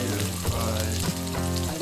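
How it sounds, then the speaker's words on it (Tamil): Chopped onion, green chili and curry leaves fry in hot oil for a cauliflower and cabbage stir-fry, a dense continuous close sizzle with faint stirring scrapes throughout. "வெங்காயம் பச்சை மிளகாய் வதங்கிட்டு கருவேப்பிலை போடுறேன்."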